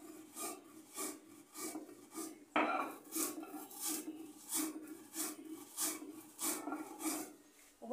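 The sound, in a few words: grinding black cumin seeds on a stone grinding slab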